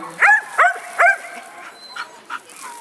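A female dog at a search-and-rescue style demonstration gives three sharp, close barks in quick succession, followed by softer whimpering yips.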